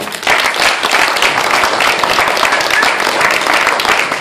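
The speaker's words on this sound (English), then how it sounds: "Audience, one more big round of applause." An audience at a hypnotist show in Kinistino claps in a loud, close, continuous burst of applause that fills the whole stretch, with a voice briefly heard within it.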